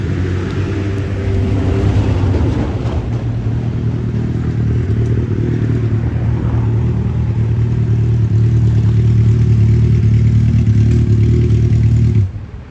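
Loud motorcycle engine roaring continuously and close for about twelve seconds, a heavy low rumble with shifting revs, then cutting off abruptly at the end.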